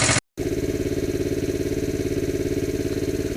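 A Sunl 110cc ATV engine idles nearby after a brief cutout, its small single-cylinder putter steady and rhythmic, loud and close with no voices.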